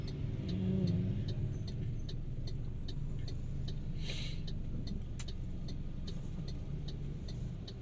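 A car engine hums low and steady while driving through daytime city traffic, a continuous rumble with faint ticking and no voices.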